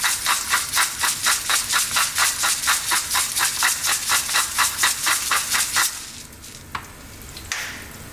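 Onions and olives frying in a pan, stirred in a fast, regular rhythm of scraping strokes over a steady sizzle, then the stirring stops and a few isolated knocks sound against the continuing sizzle.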